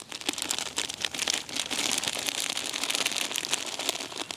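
Granular bait pours and rattles out of a bag in a steady rushing hiss with crinkling plastic, close and fairly loud.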